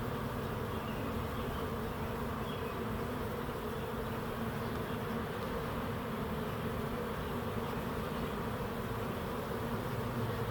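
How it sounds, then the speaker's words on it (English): A large honeybee swarm funnels into a backyard swarm trap, making a steady unbroken buzz that stays at an even, moderate level the whole time with no talking. "They'll continue to fly in and funnel in"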